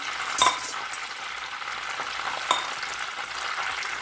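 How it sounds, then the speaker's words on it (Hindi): Chicken breast rolls filled with broccoli and cheese fry in oil over low-medium heat, giving a steady, close sizzle that runs throughout, broken by a couple of brief utensil clinks and no talking. "हम इसको कुक कर रहे हैं लो मीडियम हीट पर।"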